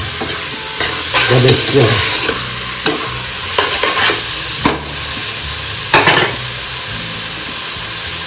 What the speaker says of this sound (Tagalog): Gisa natin hanggang lumabas yung mantika niya.